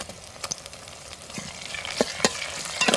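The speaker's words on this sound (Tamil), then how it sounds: "நம்ம வெட்டி வச்சு தக்காளியும் எண்ணெயிலேயே வதக்கி எடுத்துக்கிறோங்க." Tomato, onion and green chilli fry in oil for a fish curry. A bright, crackling sizzle is broken by several sharp scrapes of stirring and grows slightly louder toward the end.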